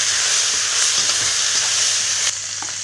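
Chicken liver fries in a pan with a loud, continuous close-up sizzle and hiss. The sound holds steady throughout and drops slightly near the end.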